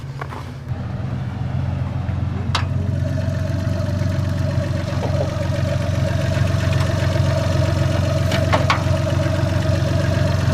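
A Geo Metro's engine runs steadily while off-roading in deep snow, with a constant low hum and the cooling fan kicking in, loud and close with a few faint clicks on top.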